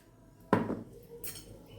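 A lid closing on a container of salted amla, one sharp, close clack followed by a short clatter and a fainter second tap, quiet room otherwise with no talk.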